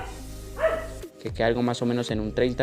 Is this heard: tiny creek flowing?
no